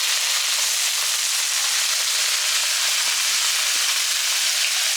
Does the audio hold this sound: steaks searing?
yes